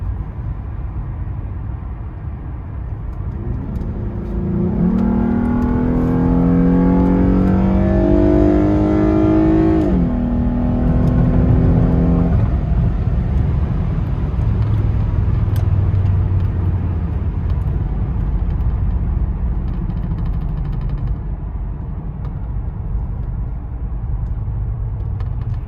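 A Lexus GS350 fitted with a K&N cold air intake accelerates, the engine note climbing in pitch through a few gear changes before settling into a quieter cruising rumble, with no talk.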